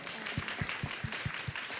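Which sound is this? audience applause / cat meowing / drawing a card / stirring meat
audience applause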